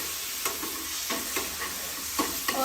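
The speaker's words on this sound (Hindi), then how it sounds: "अभी मैं प्याज भून रही हूँ लो फ्लेम में।" Onions frying in a pan over a low flame, a steady close sizzle with occasional soft scrapes and taps of stirring running through it, no talking.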